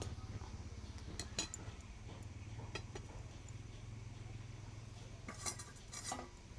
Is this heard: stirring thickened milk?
yes